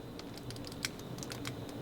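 Rapid, crisp, quiet clicks from the buttons of a Razer Kishi mobile gaming controller, tapped in an irregular patter much like a clicky keyboard, close up with no talking.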